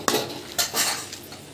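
Spice masala stirred in a pan brings near, scraping strokes of a utensil against metal, about three quick sweeps with a light sizzle under them, and no voices.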